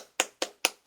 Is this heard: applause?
yes